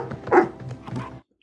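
A dog gives a brief run of barks and yips, fairly close and moderately loud, with no speech during the sounds.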